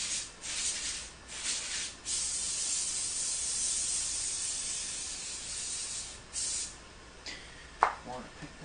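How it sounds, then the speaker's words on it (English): Short hissing bursts from a spray can coating a sheet of foil, several quick sprays near the microphone separated by pauses, ending with a sharp rattle or tap. "We're going to spray this foil like this."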